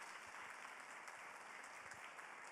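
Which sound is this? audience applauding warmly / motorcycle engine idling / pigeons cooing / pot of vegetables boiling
audience applauding warmly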